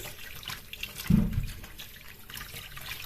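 Potatoes are rinsed under a running kitchen tap, water splashing steadily with a brief louder gush as they go under the stream.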